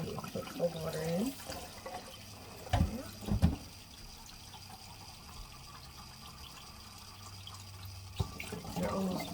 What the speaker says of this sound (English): dump the hot water out as we put cold water in